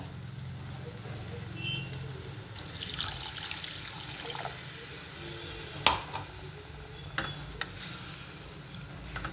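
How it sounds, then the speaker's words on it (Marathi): Water pours steadily into a pot of methi mutter malai curry, a soft running gurgle, followed by a few sharp clinks of utensils near the end. "आता आपण पाणी घालूया ह्याला"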